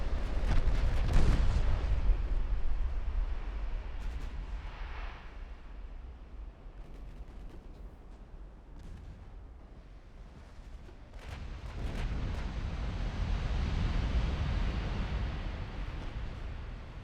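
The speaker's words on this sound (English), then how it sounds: "17-inch guns also being very effective, finally." Heavy 17-inch naval guns fire in a warship battle in the game Ultimate Admiral Dreadnoughts, with a loud burst of deep booms at the start and another rumbling barrage later over a steady low roar.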